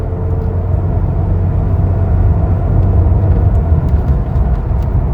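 A 2016 Toyota Tacoma double cab 4-cylinder pickup driving, a loud continuous low engine and road rumble heard from inside the cab, with a few faint ticks on top.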